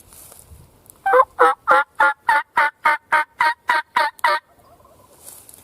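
A wild turkey on California public land gobbles in a rapid run of about a dozen loud, evenly spaced pulses, close and clear against a quiet background, after an earlier call drew it toward the road.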